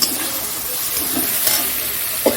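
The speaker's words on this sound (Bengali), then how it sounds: "দেখো মশলাটা ভাজা হয়ে গেছে এইবার এর মধ্যে চিকেনটা দিয়ে দেবো" Chicken going into spice paste frying in a pan for chicken kosha, giving a steady close sizzle and hiss with a couple of soft stirring knocks.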